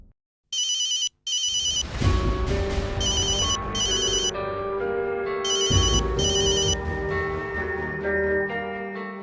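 A phone ringtone plays a repeating electronic chime pattern in short bursts, close and clear, over a sustained melodic tone, with no talking.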